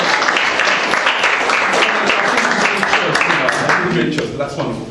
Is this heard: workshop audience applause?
yes